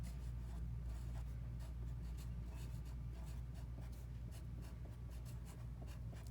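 Pen or pencil writing on a paper worksheet, a continuous close scratching with short repeated strokes that runs steadily for several seconds with no talk.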